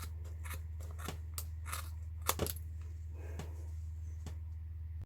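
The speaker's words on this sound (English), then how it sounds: "just keep on cutting" Scissors snip through yarn wrapped for a craft pom-pom: a series of sharp, irregular close-up cuts over a steady low hum, with no talking.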